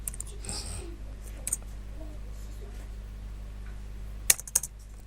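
Typing on a computer keyboard during a PHP string-functions coding lesson: a few scattered faint key clicks early on, then a short cluster of sharper taps near the end, quiet and close with no talk over them.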